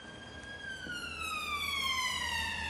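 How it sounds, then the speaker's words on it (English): A wailing siren sweeps steadily downward in pitch, sustained and fairly loud throughout, with faint low rumble underneath and no talking. "Every time I hear a siren"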